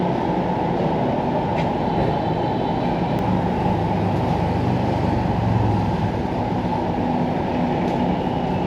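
Passenger train ride in Vietnam, a continuous loud low rumble of the carriage rolling along the rails, steady throughout with faint rattles and no talk.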